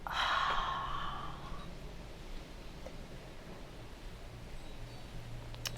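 A person imitates a fire-breathing dragon with a forceful, breathy exhale during a calming yoga session. The close, hissing rush of air fades over about a second and a half into quiet room tone.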